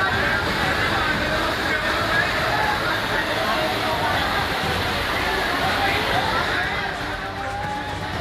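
Floodwater rushing through a narrow lane during heavy monsoon rain, a steady loud roaring wash that continues unbroken throughout, sweeping along drums and motorbikes.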